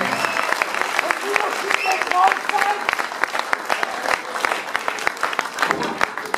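Concert audience applauding a band at a live rock show in Hamburg, dense steady clapping with crowd noise filling the room, talk running faintly underneath.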